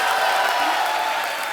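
A television comedy studio audience breaks into dense, steady applause with faint cheering, loud and continuous throughout the brief moment.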